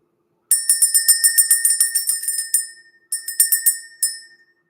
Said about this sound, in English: So we're going to ring the bell.